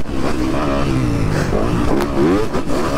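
Fantic XXF 250 motocross bike engine revs continuously and loudly on a dirt track, pitch rising and falling with throttle changes as the rider rolls on and off.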